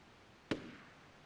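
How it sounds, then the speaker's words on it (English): A single sharp gunshot crack from the Shadow of Destiny video game, faint and distant-sounding, with a brief decaying tail in an otherwise quiet scene. "Gunshots?"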